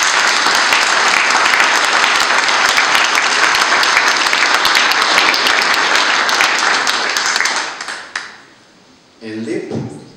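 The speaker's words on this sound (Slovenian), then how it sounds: "lahko zdaj damo en aplavz kot današnjim umetnikom in razstavljavcem" An audience at the opening of a Jože Spacal art exhibition at Ljubljana Castle claps in a loud, dense, sustained burst of applause that fades out near the end, followed briefly by a voice.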